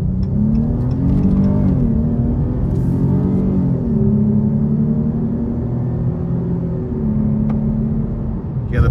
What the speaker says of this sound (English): for this to be a V6, it is really quick